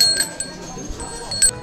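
Small temple bells at Wat Phra That Doi Suthep chime with thin, lingering metallic tones, two brighter strikes standing out against faint outdoor background noise.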